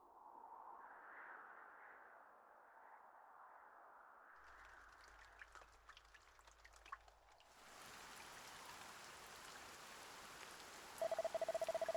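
Rainfall in the Dragon Quest I HD-2D Remake video game sets in partway through as a soft, steady hiss after quieter tonal ambience, with a short electronic beep near the end.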